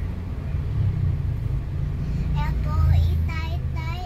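Heavy road traffic on Katipunan Avenue in Quezon City rumbles continuously as a low, steady drone, while a voice chatters over it.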